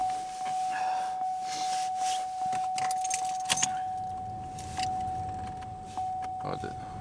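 Keys jangle close by as a Pontiac Grand Am with a fuel pressure regulator problem is started, followed by a steady idle with a high whine, a hiss of air from the vents and a few clicks.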